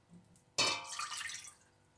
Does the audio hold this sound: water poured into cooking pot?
yes